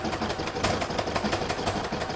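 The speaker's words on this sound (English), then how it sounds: "I'm now going to pop that back in my machine and do the joining stitch" Sewing machine running a steady joining stitch on a crazy-patch fabric stocking, a fast continuous mechanical whir with regular rapid needle clatter, close and moderately loud with no talking.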